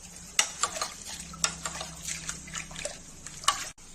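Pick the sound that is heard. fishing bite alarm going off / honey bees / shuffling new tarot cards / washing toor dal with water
washing toor dal with water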